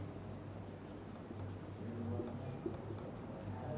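Pen or marker strokes on a board during an engineering lecture, a soft, faint scratching over a steady background hum, with no speech.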